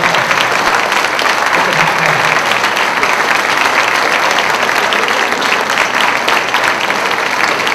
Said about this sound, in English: please stand up and be applauded by everyone else